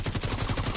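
Rapid automatic gunfire from a machine gun in The Division 2 on PS4, a steady burst of evenly spaced shots throughout, moderately loud with no talk.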